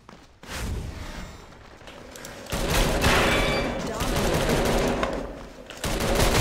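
M14 EBR rifle firing in the Metro Conflict shooter game, loud bursts of gunfire that build toward the end, close and dense, with someone talking over parts of it.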